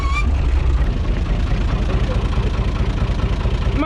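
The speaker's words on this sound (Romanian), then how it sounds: "Bun, oprește tractorul." A UTB 445 DT 4x4 tractor engine idles close by with a steady, rumbling chug, loud and continuous throughout.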